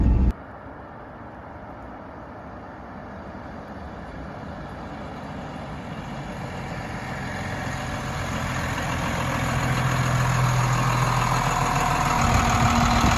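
A Chevrolet Suburban swapped to a Cummins diesel engine idles with a steady low rumble, close and continuous, growing slightly louder toward the end.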